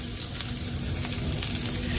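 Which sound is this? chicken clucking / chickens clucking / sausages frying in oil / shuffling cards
sausages frying in oil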